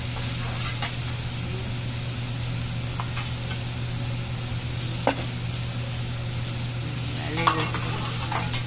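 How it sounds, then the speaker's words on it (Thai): An onion volcano tower sizzles on a teppanyaki grill at a Japanese restaurant with a steady frying hiss and a few sharp metal scrapes and taps over a low hum. "อันนี้ก็จะเป็นภูเขาไฟทาวเวอร์หัวหอมค่ะ"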